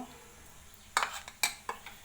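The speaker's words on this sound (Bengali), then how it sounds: "চিকেনের পিসগুলো এই ব্যাটারের সঙ্গে আমি ভালো করে মিশিয়ে নিব" Chicken pieces are stirred into batter in a bowl for a restaurant-style chicken fry. A few faint, sharp clinks of a utensil against the bowl punctuate the near-quiet background.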